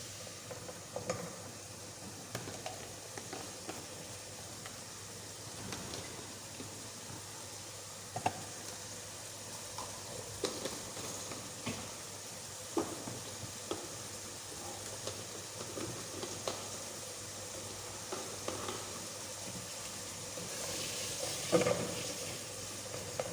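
Spices and potatoes frying in a pan for aloo tahari, a steady low sizzle with occasional soft clinks and stirring scrapes, heard without talk.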